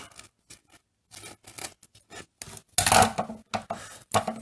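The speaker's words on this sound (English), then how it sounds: "So these are going to get carved out with the scissors." Scissors chop and rasp through stiff linoleum with a fibrous burlap backing in a series of short, close cuts separated by brief pauses, each snip crunchy and coarse.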